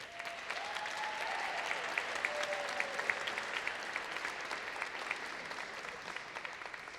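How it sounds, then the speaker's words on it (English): An audience at a Los Angeles city government event applauds the Domestic Violence Task Force, a soft, steady patter of clapping heard at a distance, with faint voices and a few whoops mixed in. "Can we have a round of applause for the task force"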